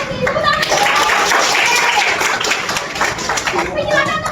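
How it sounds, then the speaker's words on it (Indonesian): A high school economics classroom breaking into applause, many hands clapping together in a dense, loud burst with students' voices mixed in throughout. "Tepuk tangan."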